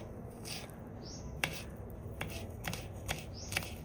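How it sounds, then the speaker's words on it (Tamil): A knife chops peeled garlic into small pieces for a fried fish dish, giving a few sharp, irregular taps on a board, close but soft, over a faint background hum and a short high chirp. "இந்த பூண்டை சின்ன சின்னதாக வெட்டி எடுத்துக்கிறோம்"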